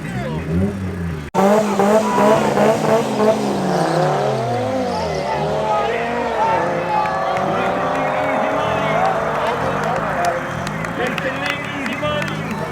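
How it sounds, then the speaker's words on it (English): An Audi RS3 launches in a drag race at Midvaal Raceway, its engine revving hard through rising gear changes with tire squeal, loud and close over a background crowd, with a commentator talking over it. "Up next is Levert going up against the RS3 from Colab."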